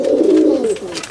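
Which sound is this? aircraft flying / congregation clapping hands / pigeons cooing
pigeons cooing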